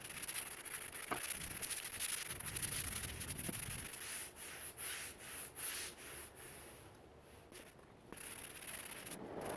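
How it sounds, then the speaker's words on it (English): A stiff brush scrubs a concrete driveway coated with cleaner, giving rapid rough rasping strokes, continuous at first and then broken into separate back-and-forth scrapes, close to the microphone with no talking. "I'm gonna get the brush with the brush. It says to brush vigorously."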